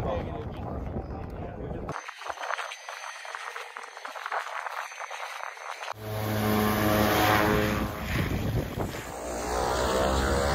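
A propeller plane departs from a glacier landing site on Denali, its engine drone swelling loud and close, then a steady broadband roar with a rising whine as it moves off.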